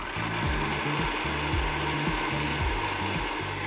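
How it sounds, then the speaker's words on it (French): A kitchen blender whirring as it mixes milk, an egg and olive oil into batter, a steady loud motor drone with rhythmic pulsing churn, no talking over it. "nous allons tout mettre dans le blender et on va mixer notre lait, un œuf, et l'huile d'olive"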